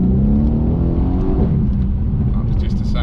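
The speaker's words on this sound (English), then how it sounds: "That was just a second gear pull again." A performance car accelerates hard in second gear, its engine note loud and close, climbing in a rising, rasping howl before settling.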